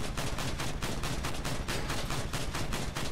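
Continuous rapid automatic gunfire hammering the side of a Dual Cyclone battleship vehicle on Goliath tracks in Crossout, steady dense bursts of loud repeated shots with no pause and no talking.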